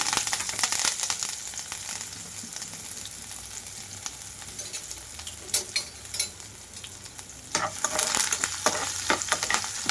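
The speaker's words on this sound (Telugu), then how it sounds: "ఇక్కడ ఉల్లిపాయలు కొంచెం కలర్ మారే వరకు వేయించుకోవాలి" Onions, green chillies and curry leaves fry in hot oil with tempering seeds and dried red chillies, giving a steady crackling sizzle with occasional stirring scrapes that swell louder near the end, no voices.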